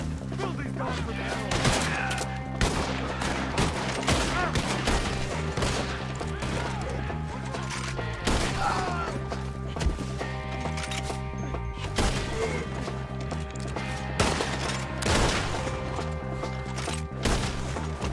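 Dense gunfire fills a Red Dead Redemption 2 shootout as rapid, overlapping rifle and pistol shots crack continuously over tense game music, loud and close throughout.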